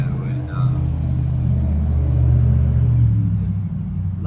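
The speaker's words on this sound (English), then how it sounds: "if loud trucks quit messing up my video when I'm trying to talk" Heavy trucks roll past on a nearby road, a loud, steady low rumble that swells toward the middle and eases off, with someone talking over it.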